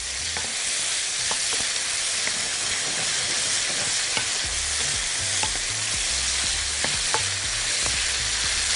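Onions and chicken fry in a hot pan, a loud, dense, continuous sizzle with occasional sharp crackles and pops, no voices.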